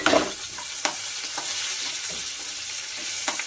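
Ingredients sizzle in hot oil for a tempering, with a soft, continuous frying hiss broken by a few sharp scrapes and clicks of a spoon stirring the pan, close and moderately loud.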